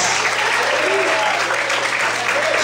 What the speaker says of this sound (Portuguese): Aplaude e glorifique a Deus.